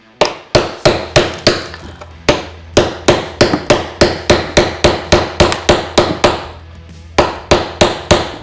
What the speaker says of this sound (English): you just keep going for it with a chisel